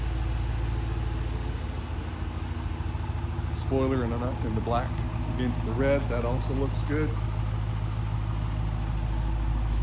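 A 2017 Dodge Challenger R/T with a Hemi V8, shaker hood and six-speed manual idles with a steady low rumble throughout, while someone talks over it in the middle stretch.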